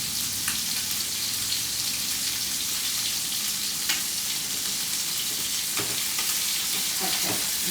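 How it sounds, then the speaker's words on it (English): Chicken browns in butter in a frying pan, a steady close sizzle and crackle with occasional sharper pops and faint stirring sounds. "I am frying, or rather browning, my chicken here in butter."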